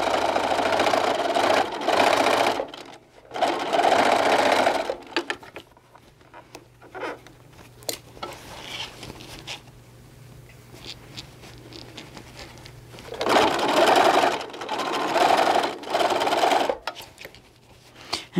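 A sewing machine stitches a drawstring bag in bursts, with two long runs of rapid needle chatter at the start and again near the end, separated by a quieter stretch of fabric handling and a low motor hum.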